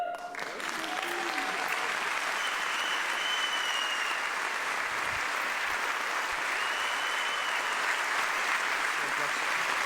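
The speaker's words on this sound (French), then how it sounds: "je voudrais vous demander de vous lever pour applaudir" A comedy-show audience stands and applauds, a dense, sustained wash of clapping filling the hall at even loudness, with a voice faintly heard at the start.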